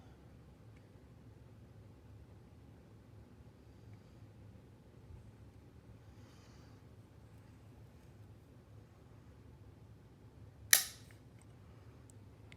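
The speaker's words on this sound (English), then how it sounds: "we're just going to go ahead and give it a pull with the trigger scale" The trigger of a Ruger Precision Rimfire .22 LR rifle, unloaded and pulled with a trigger scale, breaks with a single sharp click late in an otherwise quiet stretch of low room hiss.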